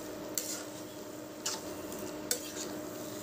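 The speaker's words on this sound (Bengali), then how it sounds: "তারপরে একটু নাড়িয়ে চাড়িয়ে এটাকে কিছুক্ষণ ঢেকে রাখব" Banana flower cooking in ghee in a pan, a low steady sizzle with three distinct metallic scrapes of a spatula spaced about a second apart, close and quiet, no voices.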